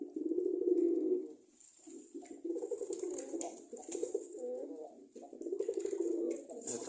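Pigeons coo at their nest beside a cage, a female newly laying eggs and a black-and-white male perched on top, giving steady throaty cooing in long bursts close by, mixed with faint high chirps.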